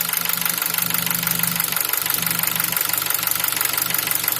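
A Nissan QG18DE car engine idles at working temperature with a rapid, even knocking tapping through its steady mid-range drone, loud and close, with no voices.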